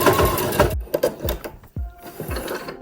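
A sewing machine stitches lace gathers onto a dress in short mechanical bursts, its whirring runs stopping and starting with a few soft thuds between them, close and fairly loud.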